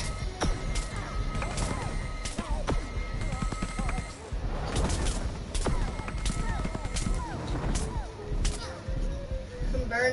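Gunfire in Plants vs Zombies Garden Warfare 2 crackles in a dense, chaotic mix of sharp repeated shots, crashes and other battle effects, loud and continuous across the whole stretch.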